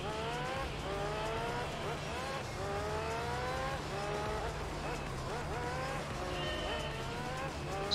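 LMP Dragon race car leaving the pit lane in Gran Turismo 3, a continuous engine whine rising repeatedly through the gears, with a voice talking over it.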